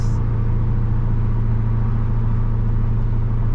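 A Dodge Charger 392 Scat Pack with nitrous, built to about 700 horsepower, drones loudly and steadily from close by, a constant engine roar without a clear rise in pitch.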